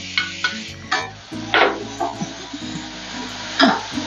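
Dried shrimp (sukat) go into a pan of turmeric-coloured frying onions and are stirred. Several distinct scraping strokes sound over a low background sizzle, close and moderately loud.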